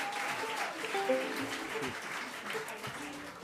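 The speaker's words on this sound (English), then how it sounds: "Very nice clapping." An audience at a live concert in New York claps steadily in a continuous, moderate wash of applause, with faint musical tones mixed in.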